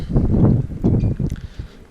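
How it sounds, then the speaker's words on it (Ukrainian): Wind buffeting a microphone outdoors on a street beside new houses under construction in the USA, heavy low rumbling gusts coming in irregular bursts that fade out toward the end. "Погано трошки вітер мені мішає знімати"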